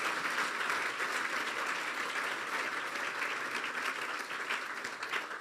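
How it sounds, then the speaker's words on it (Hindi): A church congregation applauds during a Psalm 91 sermon, with dense, steady clapping that fills the hall evenly for several seconds at moderate distance. "तो फिर आप बजा दें यीशु के लिए। यीशु के लिए हैं ये तालियां।"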